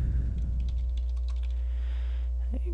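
Quick bursts of keystrokes on a computer keyboard, a short run of typing near and clear over a low steady hum, pausing toward the end.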